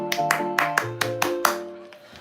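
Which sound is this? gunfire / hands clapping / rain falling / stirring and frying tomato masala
hands clapping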